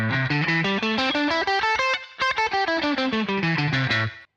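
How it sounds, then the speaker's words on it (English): Electric guitar playing a quick run of single picked notes down a minor pentatonic scale with a slightly driven, effected tone, with a brief pause midway. "so that is just a descending minor pentatonic scale."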